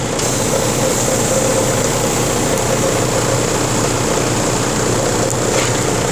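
A semi truck's engine runs while its air system builds pressure toward 100 psi during a CDL brake check, giving a loud, steady, unbroken drone with a constant hum that holds level throughout, with no voices.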